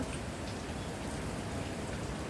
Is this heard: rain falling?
yes